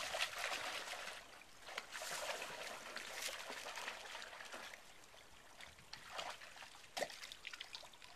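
A shallow creek trickles and burbles nearby, with uneven splashes and sloshing throughout as a Labrador retriever wades in the water.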